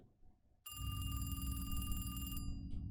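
In the video game The Devil's Route, a telephone rings loudly and steadily for about two seconds with a bright electronic tone, cutting off abruptly after a quiet start with low rumbling.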